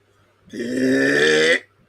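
A long, loud, deep belch swells in and holds for about a second before cutting off cleanly, standing alone against a quiet background with no talk over it.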